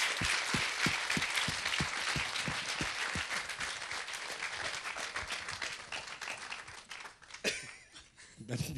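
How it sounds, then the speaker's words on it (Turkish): Studio audience at a 1996 Turkish children's television show applauding loudly and steadily, with a few sharp rhythmic claps standing out early before the ovation thins slightly near the end. "koskocaman bir alkış"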